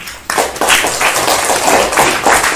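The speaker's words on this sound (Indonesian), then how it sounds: "Tepuk tangan untuk kita." Classroom students clapping together in a fast, dense burst of close, loud claps that starts abruptly and continues to the end.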